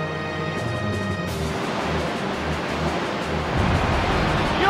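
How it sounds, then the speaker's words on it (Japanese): A Surf attack in Pokémon Stadium Gold and Silver, a steady wash of wave noise that swells a little louder near the end, with game music tones fading early. "ここで波乗りだ。"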